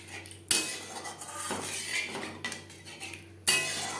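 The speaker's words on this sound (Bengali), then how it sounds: "গ্রেভি বেশ ভালো করে মিক্সড করে দেবো।" A spoon scrapes and clinks against a metal pan while stirring fish curry gravy with spices and water, with sharp clanks near 0.5 and 3.5 seconds over steady scraping; close and fairly quiet, no talk.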